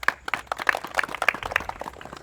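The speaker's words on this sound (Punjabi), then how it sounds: "ਤਾੜੀਆਂ।" Applause from a live audience at a Punjabi quiz and game show, a dense steady patter of many hands clapping for about two seconds with a faint voice underneath.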